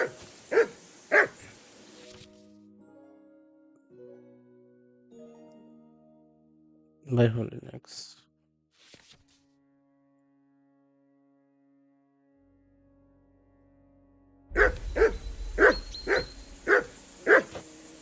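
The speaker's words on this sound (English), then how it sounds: "that barking's driving me nuts. Can you get your dog to shut its beak?" A dog barks at a camp in the medieval Bohemia video game Kingdom Come: Deliverance, with a couple of loud barks at the start and a rapid run of barks at the end, separated by quieter stretches and character dialogue.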